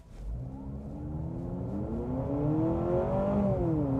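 A 2025 Honda CR-V Hybrid in sport mode pulling hard in a 0 to 60 run, its engine droning and rising in pitch with simulated gear shifts, heard steadily from inside the cabin.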